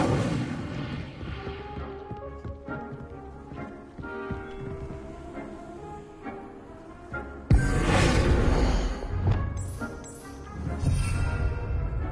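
Fiery Incendio spell cast in the Hogwarts Legacy video game, erupting as a sudden loud, roaring blast that cuts in over the game's orchestral music and keeps rumbling to the end.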